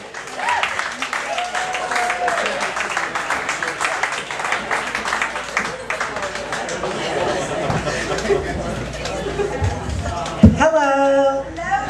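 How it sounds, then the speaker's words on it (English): Audience applause and cheering greet a comedian taking the stage at a stand-up comedy show, a dense sustained crowd roar with chatter mixed in, rising in a burst near the end as a voice begins. "I want to give a big round of applause for our next comedian"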